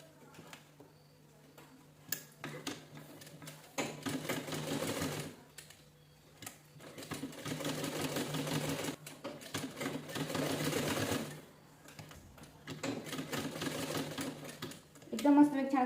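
A sewing machine stitches lace onto a round fabric piece, running in several bursts of rapid mechanical clatter separated by short pauses, close and clear, with a person's voice talking alongside.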